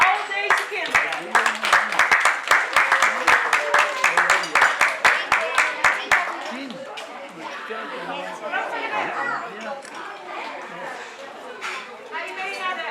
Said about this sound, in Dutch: gaan we nog eenmaal een applaus voor al deze kinderen